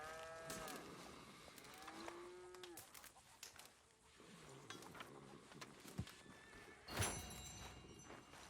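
Cattle on a farm in Red Dead Redemption II give several drawn-out moos, some overlapping, amid ambient farm noise, soft footsteps and a short scraping burst near the end.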